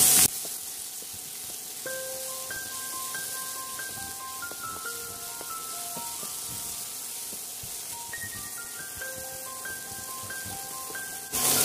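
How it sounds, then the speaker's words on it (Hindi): Chopped tomatoes frying and being stirred in a pan for egg bhurji, a continuous close sizzle with soft scraping, while a light melodic tune plays alongside. "अब इसमें कटे हुए टमाटर को डालेंगे। और इसे चला के मिला लेंगे।"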